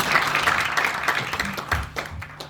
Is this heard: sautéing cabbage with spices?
no